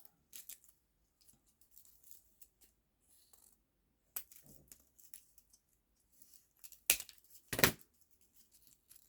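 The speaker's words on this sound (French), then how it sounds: "Ensuite, les ciseaux pour couper les petites tiges." Scissors snip small flower stems during a home craft project, a few sharp isolated clicks spread apart in a quiet room, with two louder snips near the end.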